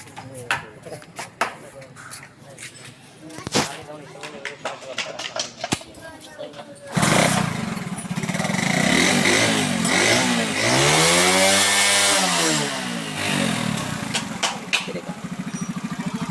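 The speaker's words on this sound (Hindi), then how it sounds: "अब मैं स्टार्ट करके आपको दिखा दूँ जो मिक्सचर कैसे सेट करना है" A 70cc motorcycle being tuned for carburetor mixture sputters with ticking and someone talking at first, then fires up loudly and runs close by, its revs rising and falling as the throttle is blipped.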